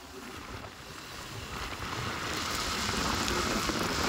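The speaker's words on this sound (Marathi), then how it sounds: "बारीक बारीक आला पाऊस." Light rain patters softly on surfaces, a gentle hiss that grows slightly louder over a few seconds.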